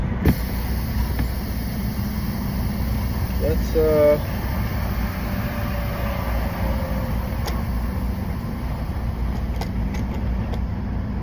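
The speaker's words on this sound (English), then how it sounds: "All right, truck's running fine." A semi truck's engine idles steadily on a highway off-ramp, a constant low rumble under the cab with other road noise, while a person starts speaking briefly.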